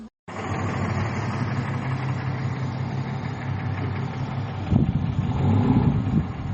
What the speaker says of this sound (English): They got that tow truck out here towing these motherfuckers' cars.